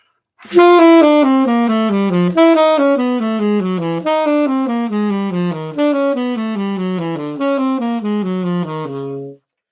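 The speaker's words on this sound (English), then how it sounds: "I'm just going to play major scales and I'm going to descend by half steps" A solo saxophone plays a series of smooth, even major scales, each starting a half step lower than the last, clear and close.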